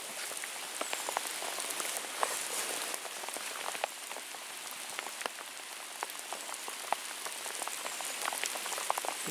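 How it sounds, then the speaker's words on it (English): Rain falling on a morning at a wilderness camp in northern Ontario, a dense steady patter of drops on nearby surfaces with scattered sharper ticks, continuous and even. "Just a rainy morning in northern Ontario."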